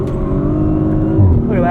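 A 2023 Audi RS5 Competition Coupe in RS1 mode accelerates, its engine giving a loud, close, rising note while a person talks over it.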